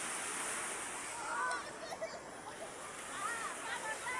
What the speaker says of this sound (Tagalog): Ayan guys, ang dagat, oh.